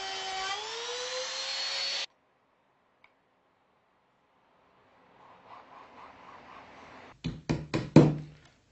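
A Bosch power tool whines loudly as it cuts a drawer-runner groove in cabinet timber, then winds down and stops after about two seconds; after a silence come faint workshop noises and a quick series of sharp knocks.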